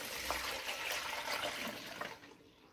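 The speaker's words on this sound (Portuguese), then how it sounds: "eu vou adicionar esse litro e meio aqui de água." About one and a half litres of water is poured into a container for a homemade cleaning mixture. The splashing rush is steady and fills the whole short stretch, then tapers off slightly at the end.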